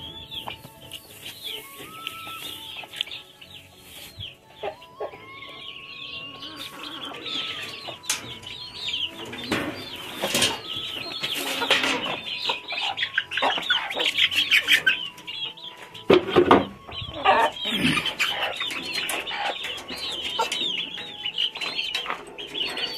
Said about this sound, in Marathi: तर कोंबड्या सोडतो.